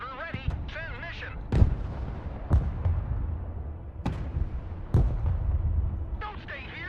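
Mortar artillery firing in the real-time tactics game Broken Arrow, several sharp, booming reports spaced a second or more apart over rumbling battle noise, with game voice lines heard between the blasts.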